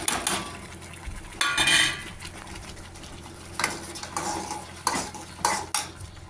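A spoon stirs dry fruits, grated coconut and almonds into thick halwa in a pan, giving several short scraping, clattering bursts against the metal, close and fairly loud, with quieter pauses between them and no talking.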